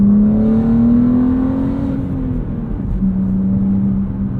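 A 2022 BMW M3 with a mid-pipe and manual transmission, its exhaust giving a raspy, droning note that holds steady, dips as revs fall, then settles into a lower steady hum, close and loud.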